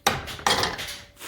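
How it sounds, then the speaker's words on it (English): A hammer taps a scraper wedged under a part during a Rough Country bumper install on a Jeep Wrangler, giving two sharp metallic knocks about half a second apart, close and fairly loud, then fading. "stick it right underneath there, since you're not going to be using this piece, and then tap it with a hammer."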